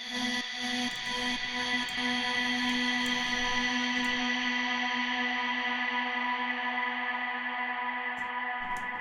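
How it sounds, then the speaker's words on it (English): Sustained, shimmering wash of a vocal sample in a progressive house track drenched in long, trance-style reverb, tones hanging and slowly decaying with no break. "This is a very high quality reverb that creates very long and trancey styled decays."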